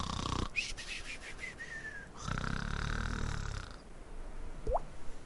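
A voice imitates snoring with drawn-out, wheezy rasping breaths, close and moderately loud, followed by a short squeaky vocal sound near the end.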